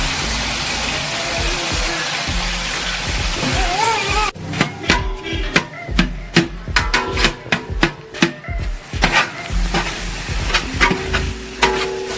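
Onions fry in a large pot of chicken biryani, eight kilos of onions for twenty kilos of chicken. A steady, loud sizzle gives way to a run of clattering, scraping stirring strokes, close by, with no talk.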